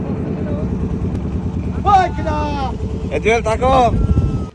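A trawler's engine drones low and steady as the boat sets off on a river toward the Pashur, while people talk loudly over it in short bursts.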